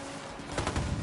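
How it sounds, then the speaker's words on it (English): A few muffled gunshots in Ghost Recon, clustered near the end of a short stretch of steady ambient noise, quiet and somewhat distant. "Taking the shot."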